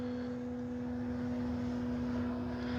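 Hangar 9 J-3 Cub 10cc radio-controlled airplane in flight, its small gas engine giving a steady, droning buzz at a constant pitch, moderately loud and continuous with no talk.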